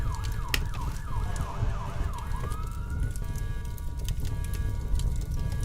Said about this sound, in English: I hear some sirens, Jesse.